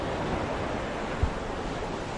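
Sea waves wash steadily near an abandoned beach resort, a continuous broadband surf roar with wind-like hiss and one brief low thump midway, no talk.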